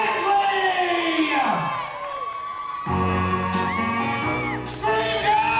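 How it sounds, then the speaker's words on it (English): Holiday camp audience at a seaside resort show screaming, whooping and cheering loudly as an Elvis act is welcomed on stage, with bursts of shouting and an announcer's voice mixed in. "scream and make lots of noise as we welcome on stage the king of rock and roll"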